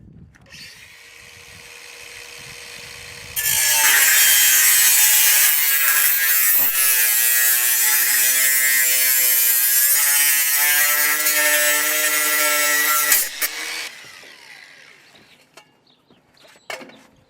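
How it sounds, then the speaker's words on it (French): An angle grinder cuts through a metal connection channel for an OekoTube-Outside mounting, a loud steady high whine lasting about ten seconds, then spinning down, with quieter handling noise before and after. "À l'aide d'une meuleuse, le canal de raccordement est raccourci."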